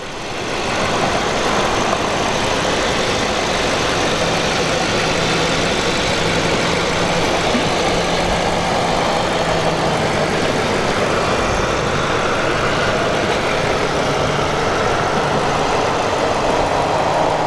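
Twin-turbo V8 of a 100,000-mile BMW 750i M-Sport idling under an open hood, a steady, even engine hum that holds for the whole stretch with no voices.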